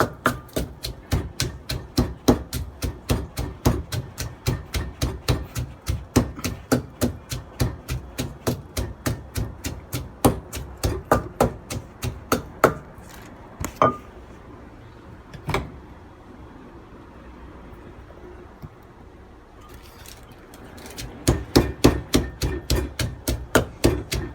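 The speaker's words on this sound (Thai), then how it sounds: "หั่นสักขนาดหนึ่งนิ้วนะครับ ก็เรื่อยๆหั่น ตามความต้องการของเราครับ" Yard long beans are chopped with a knife on a board for papaya salad, a fast steady stream of sharp cuts that pauses briefly midway before resuming.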